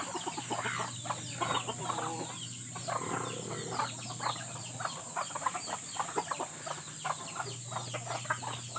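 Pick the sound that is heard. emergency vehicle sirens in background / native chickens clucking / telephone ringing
native chickens clucking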